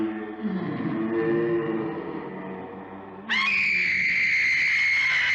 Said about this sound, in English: you're about to hear a lot of screaming